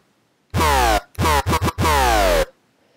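A heavy dubstep-style synth bass from Massive, modulated by a down-ramp saw LFO synced at 1/2, plays loud downward-sweeping wobbles: one long note, a few quick chopped stabs, then another long sweep, alone with no voices.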